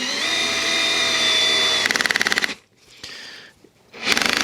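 A Bosch Pro GSR 12V 15 FC cordless drill driver whirs as it drives a screw, then its clutch at torque setting 20 slips in rapid loud ratcheting clicks, pausing and clattering again; close and with no voices.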